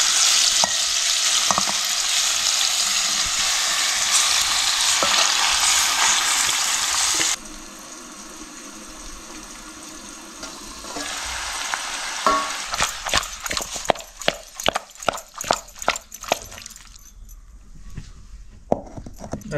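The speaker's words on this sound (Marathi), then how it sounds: "चिकन ॲड करून घेऊया." Chicken goes into hot spiced tempering with reddened garlic and sizzles loudly and steadily, then the frying quiets and a run of sharp stirring clatters and scrapes follows in the pan, all close by.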